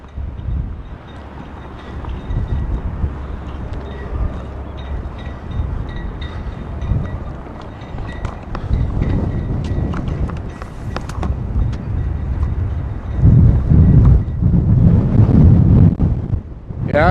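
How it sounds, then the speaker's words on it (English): Wind buffets a patched-up microphone outdoors in a rough, continuous low rumble that grows louder in heavy gusts toward the end. "it is windy out"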